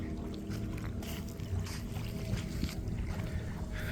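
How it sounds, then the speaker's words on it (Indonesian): A traditional boat passes near Pari Island, heard as a steady wash of engine and water with wind noise on the microphone. The sound is fairly even and moderate, mid-distance, with no one talking. "Oh, itu masih ada kapal ya? Cuman ini kapal tradisional."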